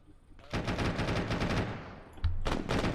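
Small arms gunfire in the tactical shooter ArmA, a rapid burst of rifle shots rattling off in a sustained string, a brief pause, then another burst, fairly distant and sharp.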